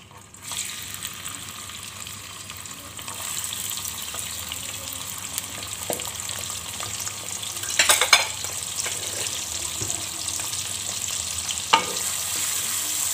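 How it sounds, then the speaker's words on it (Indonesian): Boiled baby squid sizzle and fry in hot oil in a pan, a steady crackling hiss with occasional louder pops and spatters, close by and with no voices. "cumi-cumi yang telah kita rebus ini kita goreng dahulu sebentar ya"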